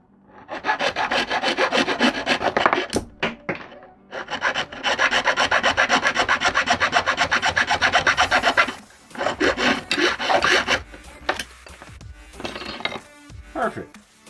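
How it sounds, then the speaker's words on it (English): A hacksaw blade cuts through a wooden dowel rod during a bunk bed repair, rasping in long runs of fast, close back-and-forth strokes, broken by short pauses and a few light knocks. "we're just going to go ahead and cut this dowel rod off"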